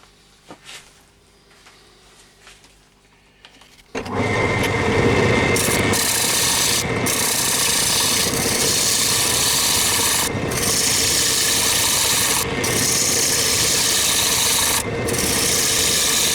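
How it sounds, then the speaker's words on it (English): A round nose scraper cuts tulipwood on a lathe, starting abruptly after a quiet moment into a loud, steady, rough scraping and whirring, with a few brief breaks in the cut. "At the moment just using the round nose scraper"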